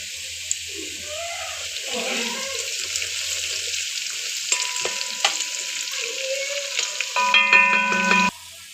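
Curry leaves crackle in hot oil with ginger and garlic for a mango pickle, a steady broad sizzle broken by stirring scrapes, brightening into a louder spitting burst near the end.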